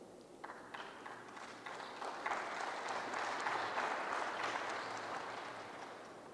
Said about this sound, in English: If you are tired of clapping, you just say so I can make a shortcut.